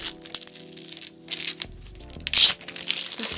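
A sticker being peeled off a colorful iPhone 14 Pro Max case, close and crisp, with several short tearing and crinkling bursts and one louder rip near the end.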